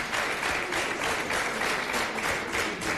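A studio audience at a Hungarian TV talk show claps in steady, dense applause that stays even in level for about three seconds.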